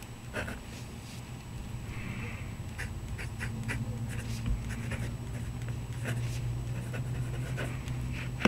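A vintage Waterman's fountain pen with a custom-ground nib writes in Noodler's ink, making faint, close scratchy strokes in short repeated bursts over a low steady background hum.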